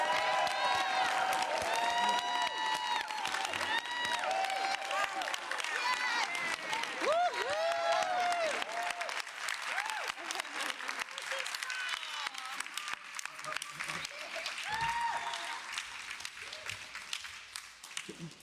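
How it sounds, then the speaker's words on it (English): Audience applause sustained for about eighteen seconds at a city hall gender equity announcement, with steady clapping mixed with cheering and scattered voices, gradually thinning toward the end. "I would like you to join me in giving her a round of applause"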